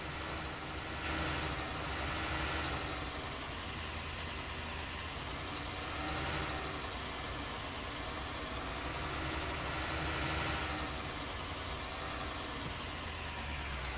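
Steady tractor engine rumble from Farming Simulator 19, a constant low idle with slow swells in pitch as it revs slightly, continuous and fairly loud with no voices.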